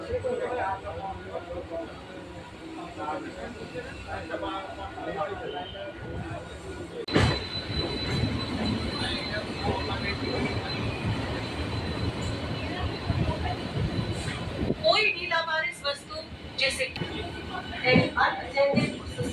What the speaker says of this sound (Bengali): এই এক্সপ্রেস ট্রেনটা ঢুকছে সাঁতরাগাছির দিক থেকে